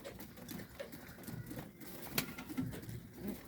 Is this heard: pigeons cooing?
yes